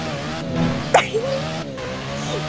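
A car spins out in a driving video game, a short tire squeal rising over a humming engine, with brief voices around it.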